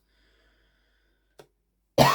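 A single short, loud cough bursts out near the mic after near silence, preceded by a faint click.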